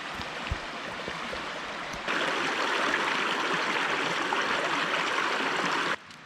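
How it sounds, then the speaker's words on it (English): Creek water flows and babbles in a steady rush near a wooded spot by the ruins at Beech Grove. The sound grows louder and brighter partway through, then drops back, with no voices. "right next to this beautiful spot on the creek"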